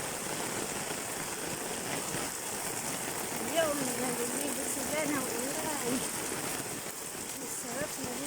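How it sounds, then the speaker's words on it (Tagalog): Steady rain pours down in a dense, continuous hiss, with faint birdlike chirps and a murmur of voices in the background. "nilakasan, nilakasan ang ulan"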